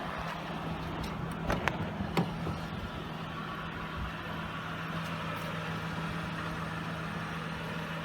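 A 1994 Acura Legend Coupe LS with a 6-speed manual and 558,000 miles idles, giving a steady low engine hum with a few faint clicks early on and no talk.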